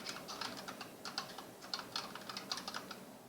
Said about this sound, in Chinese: 很容易就会听到你敲打键盘的声音